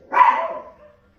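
A dog barks once in a single loud, close burst that tails off quickly, with no talk around it.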